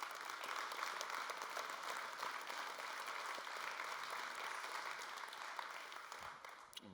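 Steady applause from an audience at the Umbraco Awards 2024 during Codegarden 2024 fills the whole stretch, even and sustained, tapering slightly at the very end.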